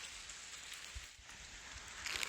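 Light rain falls steadily on an outdoor hiking route in Scotland's West Highland Way, a soft continuous hiss with no voices.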